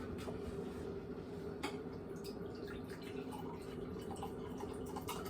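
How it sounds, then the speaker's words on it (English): Fresh-pressed homemade lemonade with cold water poured into a glass in a home kitchen: a faint, steady trickle of liquid with scattered small drips, close by and without talk. "Pour you a nice glass of lemonade."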